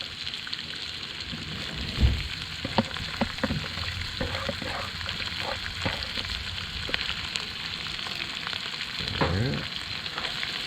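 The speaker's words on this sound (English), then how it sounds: "I'm going to go ahead and throw the onion and the garlic in also" Onion and garlic fry in a wok over a campfire with a continuous crackling sizzle, a few louder spatters, and occasional stirring clatter.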